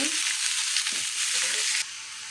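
Chopped onions fry in a pan with a loud, dense, continuous sizzle, a few soft stirring scrapes underneath, and the hiss eases slightly near the end.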